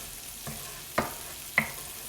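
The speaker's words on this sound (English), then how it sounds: "we're gonna cook the onion in the butter until the onion is translucent" Onion cooks in butter in a pan with a soft background sizzle, cut by three sharp stirring scrapes or taps spaced about half a second apart.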